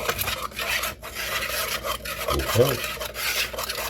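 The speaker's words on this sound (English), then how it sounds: "Now we're going to give that a whisk and get everything nicely mixed up." Salt being whisked into dry ingredients in a mixing bowl, heard as a steady scratchy rasping that runs throughout, with a brief spoken word near the start.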